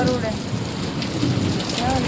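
Heavy rain pours down steadily and close, and a low rumble of thunder rolls underneath the dense, even hiss of the downpour.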